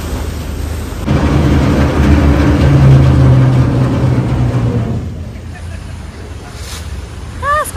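Ferry engine on the water in Istanbul on a rainy day: a loud steady low drone mixed with wind buffeting and sloshing water, easing toward the end.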